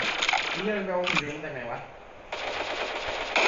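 Rapid automatic gunfire bursts from the cartoon shooter Sausage Man, crackling at the start and again near the end, with excited players talking over the shots in between.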